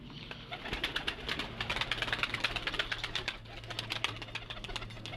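Flight-training pigeons coo repeatedly in a busy, overlapping chorus, fairly close, with a soft mechanical hum underneath.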